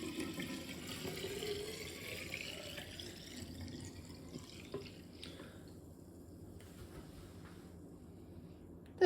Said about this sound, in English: pour this into its jar.